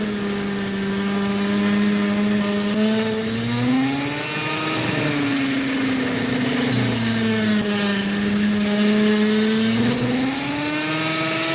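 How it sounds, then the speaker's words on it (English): Dremel rotary tool cutting into opal, a steady high whine with a strong tonal drone that dips and rises in pitch as the cutting load changes, close and continuous with no talking. "You'll note the size of my Dremel at the moment."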